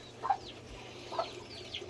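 A few short, soft clucks from two roosters and a hen, spaced apart over a quiet background.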